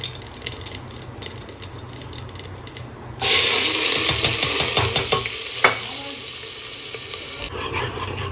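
Cumin seeds dropped into hot oil burst into a sudden loud, close sizzle partway through that keeps hissing steadily with some crackle, after quieter scraping and clattering kitchen sounds.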